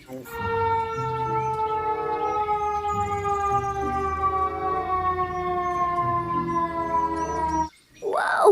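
A toy ambulance's electronic siren wails in a steady, close tone with layered harmonics for about eight seconds, then cuts off abruptly, followed by a brief voice.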